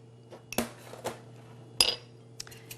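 Quiche filling with onions and basil stirred in a bowl, a few sharp clinks and scrapes of utensil against the bowl, sparse and close over a low steady hum.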